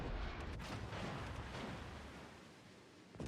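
An enemy battleship firing armor-piercing shells in World of Warships gives a deep, rumbling boom that swells at the start and slowly fades, then a fresh thump right at the end.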